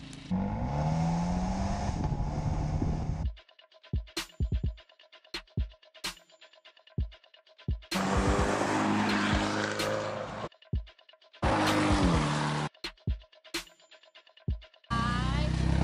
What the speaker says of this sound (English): Abarth speed and quick drive-by and Monza sounds and quick driving